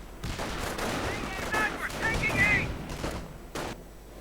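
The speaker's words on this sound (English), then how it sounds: "And more sniper fire." Sniper fire and other gunshots in a multiplayer strategy war game, several sharp cracks and bursts of battle noise at moderate distance, with a commentator talking over them.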